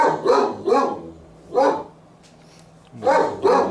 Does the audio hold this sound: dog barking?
yes